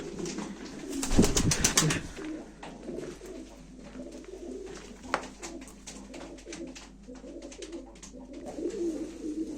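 Pigeons coo softly and repeatedly at a live pigeon auction, with a brief burst of flapping wings early on and faint background bustle throughout.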